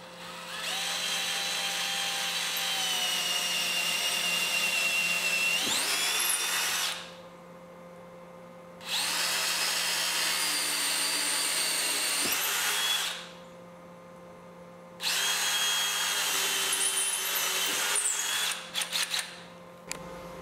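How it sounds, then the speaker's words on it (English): A power drill bores holes into a wall stud while a winch-driven ceiling storage hoist for a rooftop cargo box is mounted, running in three long, loud, close bursts separated by short pauses. "time to drill some holes"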